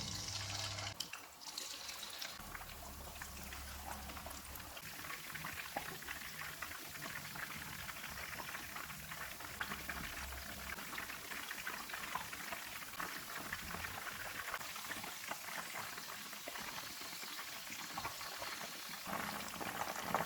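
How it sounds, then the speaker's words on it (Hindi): Chicken pieces frying in hot oil over a medium-low flame, a steady bubbling sizzle that runs unbroken for the whole stretch with faint crackle, no voices. "अब इसको फ्राई कर लेंगे। ऑयल को मैंने गर्म होने के लिए रखा हुआ था। ऑयल गर्म हो गया।"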